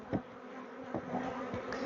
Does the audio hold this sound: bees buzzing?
yes